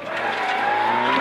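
A historic rally car on a closed Corsican special stage of the Tour de Corse Historique 2025, engine droning steadily as the tires skid through a handbrake turn, close and loud, with a sharp rising whine at the end.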